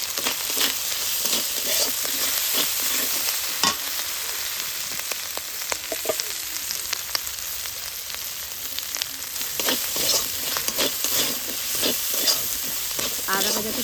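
Ginger paste and turmeric powder frying with a splash of water in a pan for vegetable dal, giving a steady close sizzle broken by scraping clicks and knocks as the spatula stirs, with no talking.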